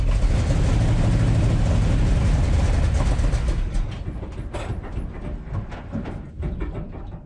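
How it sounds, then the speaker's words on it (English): A Tide-sponsored race car backing up and braking gives a loud, steady engine and mechanical roar for a few seconds, then drops to a quieter idling rumble with scattered clanks, with no talking. "I'm just going to back it up a little bit and hit the brakes"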